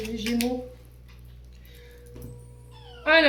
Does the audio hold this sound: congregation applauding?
no